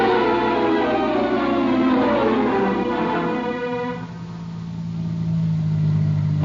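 A car engine in a radio drama hums and revs, a smooth mid-pitched drone that swells then dips and settles into a steady idle, with no voices.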